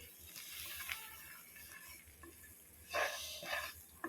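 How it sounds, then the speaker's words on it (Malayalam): Spoon stirring flour (maida) into a white sauce in a pan, with soft scraping strokes and a faint sizzle. Two louder scrapes come near the end. "ഒരു 4 ടേബിൾ സ്പൂൺ മൈദ ചേർത്തിട്ടൊന്ന് ഇളക്കി കൊടുക്കണം."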